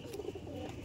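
Kagzi pigeons give a short burst of low cooing, close and moderately loud, with no talk.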